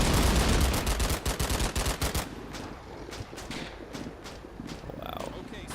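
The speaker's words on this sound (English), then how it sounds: "This 50 caliber sounds incredibly heavy." Heavy .50 caliber machine gun bursts in the WWII tactics game Combat Mission: Battle for Normandy, a rapid loud string of shots at first, then sparser distant thuds and scattered fire.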